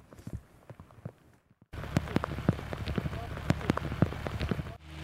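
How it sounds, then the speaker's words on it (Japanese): Sudden heavy rain pours down on a Koshihikari rice field during harvest, a dense steady patter with sharp drop impacts that jumps abruptly from a quieter stretch to a loud downpour. "先ほどから雨が急に降ってきました。"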